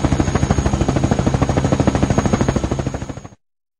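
Helicopter rotor chopping in a fast, steady thump, loud and close, holding for about three seconds before fading and cutting off abruptly.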